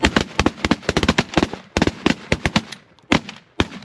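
Shotguns fire at geese during a waterfowl hunt at a Sandhill flyway, a rapid volley of dozens of loud, sharp blasts from several guns, overlapping and then thinning out into a few last shots.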